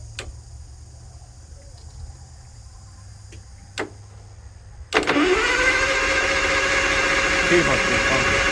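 An Allis Chalmers tractor engine is turned over: a few faint knocks, then the engine catches abruptly and settles into a loud, steady running rumble close by.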